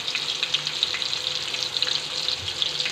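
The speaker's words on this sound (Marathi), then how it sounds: "तर आता आपण कांदा ॲड केला आहे, तर मग आता हा चांगला परतवून घ्यायचा आहे" Chopped onion sautés in a pan of hot oil with cumin seeds, giving a steady, close sizzle with faint stirring and no talk.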